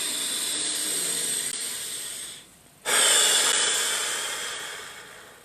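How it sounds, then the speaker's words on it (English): Slow, deep guided breathing in belly, chest and head waves: a long airy inhale, a brief pause, then a louder rushing exhale, close and alone without talk. "We begin by taking a few deep breaths."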